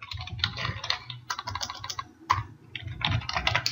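An email address is typed on a computer keyboard, quick close clusters of soft key clicks in uneven bursts with short pauses between them.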